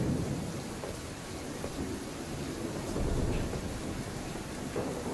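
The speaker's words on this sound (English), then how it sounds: "the thunder and it's raining outside, and the thunder and lightning in this map is pretty loud" Steady heavy rain pours throughout with deep rolling thunder rumbling underneath in a Slender Mansion video game map, a continuous stormy wash with no voices.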